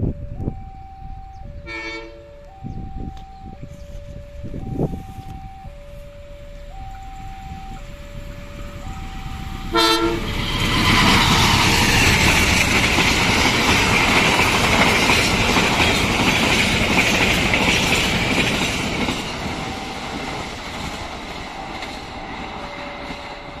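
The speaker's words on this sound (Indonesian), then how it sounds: "persiapan melintas juga kereta api Madiun Jaya 143 dari arah Madiun ke arah Jakarta" The Madiun Jaya 143 passenger train passes through Bango station in Indonesia. A two-tone station chime sounds first, then a sharp horn blast, and the loud, rushing roar of the carriages clacks past up close for over ten seconds before fading.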